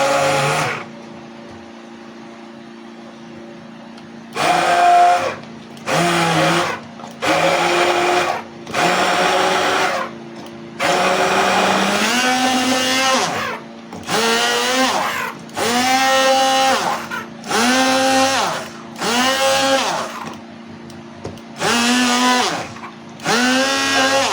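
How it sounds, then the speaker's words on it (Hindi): An electric hand beater whips cream in a bowl for homemade cheese cream, running in loud on-off bursts with a steady motor whine and pauses between runs. "बीटर को मैं बंद कर दूंगी।"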